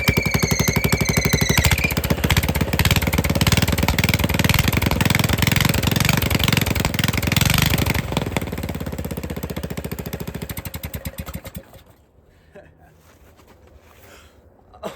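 Big block 390cc minibike engine running with no exhaust fitted, a loud rapid staccato hammering up close that holds steady, then slows and fades out to near silence as the engine shuts off.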